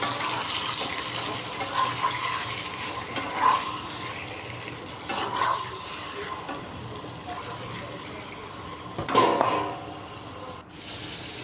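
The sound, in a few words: chicken pieces with spices frying in a pan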